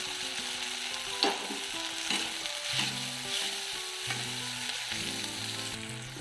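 Onions and tomatoes frying with salt in a pan, a continuous close sizzle with occasional stirring scrapes and light pops, accompanied by gentle background music and no talking.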